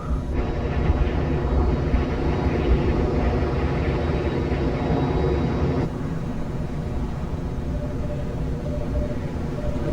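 A fixed-wing airplane on a runway during takeoff gives a loud, steady engine roar with a droning whine, sustained throughout and shifting tone partway through, with no voices.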